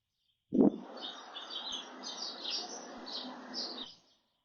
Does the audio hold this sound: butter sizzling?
no